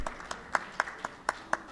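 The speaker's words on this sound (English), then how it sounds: "Please, a round of applause for him." Audience at a school parenting conference clapping for a principal, a handful of distinct, evenly spaced claps, sharp and fairly close, about seven in under two seconds with quiet room tone between them.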